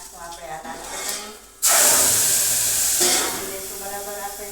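Red chutney is poured into hot tempering oil with mustard seeds, cumin and curry leaves, bursting into a loud, close sizzling hiss that stays strong and steady, with a voice talking quietly underneath.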